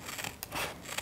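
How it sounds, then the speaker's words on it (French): Scissors cut paper along a drawn line for a children's elephant cutout, giving a close, steady snipping and rustling that runs for about a second with no voices. "Et on va découper tout le long de la ligne notre éléphant pour pouvoir le récupérer."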